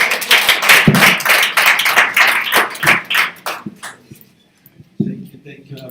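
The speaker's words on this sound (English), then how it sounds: "Give him a round of applause" A crowd claps and applauds loudly, the clapping fading out before a voice begins to speak.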